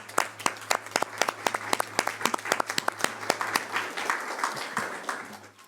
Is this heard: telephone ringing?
no